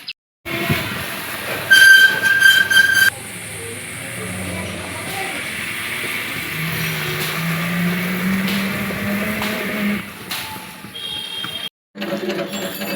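Steady rumble and clatter of a commuter train riding toward Sealdah, with a brief louder metallic burst early on and a sharp cut near the end; continuous and close, with faint voices in the carriage.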